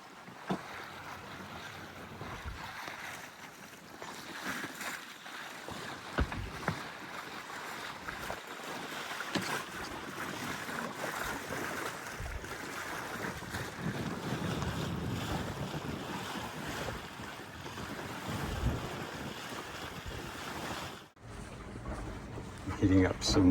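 Sailboat rounding Double Bluff off Whidbey Island as the wind picks up: steady wind buffeting the microphone mixed with waves and rushing water, continuous and loud, with talk now and then.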